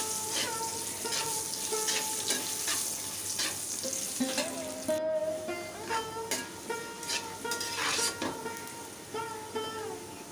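Potatoes frying in oil in a pan while making a vegetarian spinach curry, a steady close sizzle with crackling pops and a few stirring scrapes throughout.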